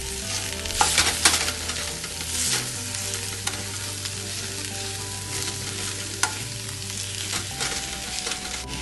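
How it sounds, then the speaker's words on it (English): Ground beef sizzles and fries steadily in a pan for Anglo-Indian beef cutlets, with repeated scraping stirs and clinks of a spoon over a constant frying hiss and a low background hum. "we can add in our ground beef"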